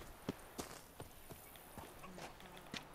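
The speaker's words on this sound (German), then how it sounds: "Da reiten wir direkt hin." Horse hooves trot in The Witcher 3, a quiet, steady clip-clop of irregular hoof strikes about every third of a second, with faint game ambience around them.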